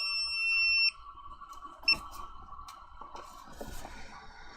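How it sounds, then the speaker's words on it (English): An incubator's temperature alarm beeps in a high, steady electronic tone for about a second, then gives one short chirp, with faint room noise and soft handling sounds after; the incubator holds button quail eggs in lockdown before hatching. "the temperature alarm's going off"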